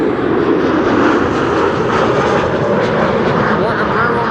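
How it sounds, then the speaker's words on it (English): A KLM Embraer 190 jet arrives at Amsterdam Schiphol Airport, its engines producing a loud, broad roar that swells slightly and stays close and continuous, with airport ambience in the background. "this is KLM flight 1216 arriving from Stockholm."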